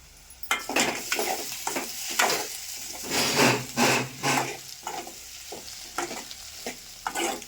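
Onions and chillies fry in oil in a village kitchen, with repeated stirring strokes and scraping in bursts over a steady sizzle, fairly close and moderately loud.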